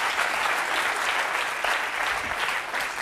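A French television studio audience applauds with steady, dense clapping at moderate volume throughout.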